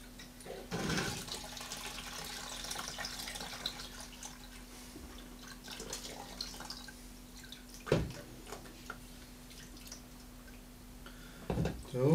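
Coolant drains from a Kawasaki GTR1400 Concours radiator during a radiator change, with a faint steady trickle and a few separate drips landing near the mic.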